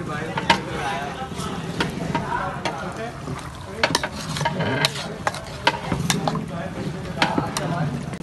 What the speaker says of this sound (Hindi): ये हमारे ताया भाई पहला घोटा लगा रहे हैं।